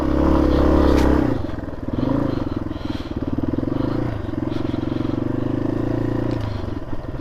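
An adventure motorcycle rumbles loudly along a rough back road in southwestern Ontario, with its engine drone steady up close and clattering from the bumpy surface.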